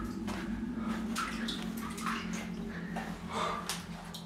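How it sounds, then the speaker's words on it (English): Water splashes and drips inside Kitley Caves, a natural cave, giving a wet, echoing trickle with scattered drops over a low steady rumble, fairly close. "Can you hear that water?"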